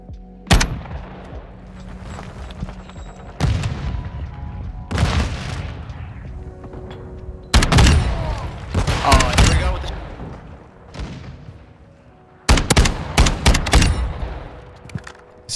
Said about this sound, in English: Not your ordinary shotgun.